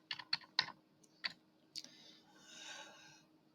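A computer keyboard clicks as a password is typed on a Lubuntu system: a handful of quick, crisp keystrokes in a brief irregular burst, then a faint rubbing sound in a quiet room, with no talking.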